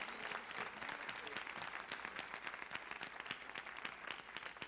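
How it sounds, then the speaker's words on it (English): Audience at the opening ceremony of the JTA Education Conference 2019 claps steadily, a dense, continuous patter of many hands heard at a fairly faint, distant level. "Please applaud better than that"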